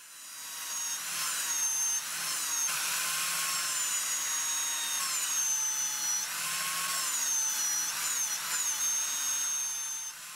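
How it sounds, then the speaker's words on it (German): Belt sander working on firewood for a DIY LED lamp, a steady high-pitched whine with shifting tones as pressure varies, loud and continuous alone throughout. "Aber mit einem Bandschleifer geht diese Arbeit wesentlich schneller."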